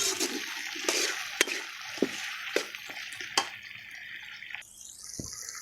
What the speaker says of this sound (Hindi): तो हम लोग थोड़ा सा इसमें पानी शामिल कर रहे हैं, ताकि ये थोड़ा सा गल जाए।